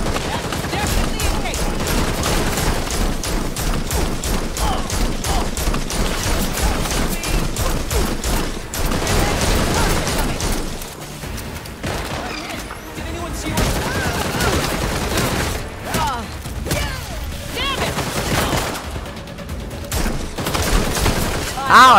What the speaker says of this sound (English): I shouldn't shoot at an officer.